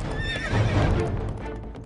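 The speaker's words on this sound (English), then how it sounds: "now takes off on his horse as fast as possible as far as it will carry him" A galloping horse neighs with a loud whinny over a dense rumble of hooves, as if ridden off at full speed, sounding close and continuous with no speech.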